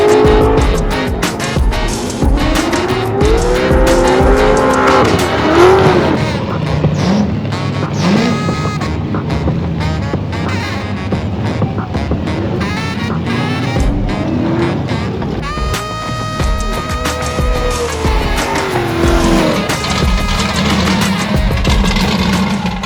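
Loud revving engines of drift cars at a drift challenge at LS Fest West 2023 in Las Vegas roar and rise and fall as cars slide, with screeching tire squeals cutting in repeatedly throughout.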